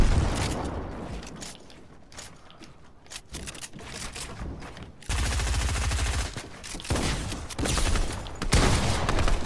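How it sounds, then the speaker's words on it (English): Rockets and gunfire ring out in an online shooter game, with a rapid series of sharp shots and blasts. A heavier, louder burst of fire begins halfway through and runs to the end, with no talk over it. "Shoot a rocket."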